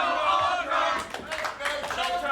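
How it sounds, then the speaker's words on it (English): A wrestling crowd at a CCW show chants a wrestler's name, loud rhythmic massed voices rising and falling in bursts across a couple of seconds. "upset too with the crowd for chanting Ultra's name"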